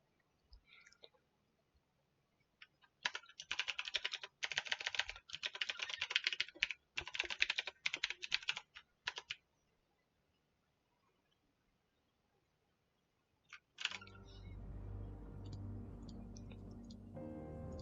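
Fingers typing on a computer keyboard in quick clustered bursts of clicks over several seconds, close and crisp, followed by a pause and then a steady droning background sound.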